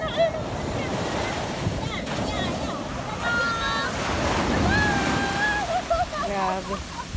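Ocean waves roll and wash onto a resort beach in a steady, close rush with wind buffeting the microphone, while children's and adults' voices call out over the surf.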